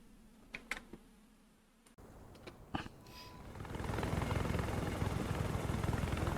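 A Z-9WA helicopter in War Thunder starts up after a few clicks and quiet interface sounds, its rotor and turbine swelling into a steady, loud droning whir that fills the rest.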